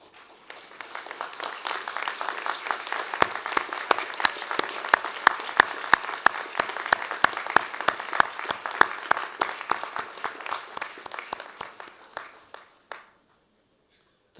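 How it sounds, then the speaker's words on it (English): At a university graduation ceremony for design, architecture and building, graduates clap for family and friends: scattered claps build into broad applause, then sharp single claps ring out before it stops abruptly. "give them an equally rousing round of applause"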